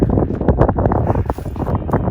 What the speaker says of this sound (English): Listen, I apologize if it's windy. I'm trying to shield the wind as best as I can